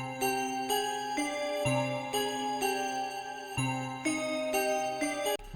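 Bright, glassy bell-like synth tones ring out in a steady repeating pattern, with a low bass note shifting underneath.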